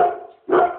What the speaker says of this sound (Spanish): Canu, déjate ladrar, ven aquí